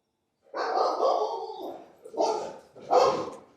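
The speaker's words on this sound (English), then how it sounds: "Sorry about my dog." A pet dog indoors lets out a drawn-out whining bark followed by two shorter yelps, close and fairly loud against an otherwise quiet room.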